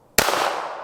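One sharp, loud gunshot from a .380 Baby Browning pistol at a shooting range, close and sudden, with a brief ringing tail fading over the following moment.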